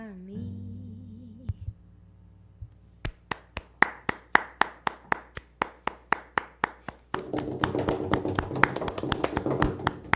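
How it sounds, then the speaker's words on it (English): Hands clap in a steady, close, dry rhythm after a song in a home quarantine concert, one person at first, then a denser burst of applause joins in near the end. "it's more than me clapping, I promise"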